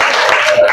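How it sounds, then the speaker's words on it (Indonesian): Quick burst of clapping from a school class, many hands applauding together, loud and close, lasting less than a second. "tepuk tangan untuk kita semua"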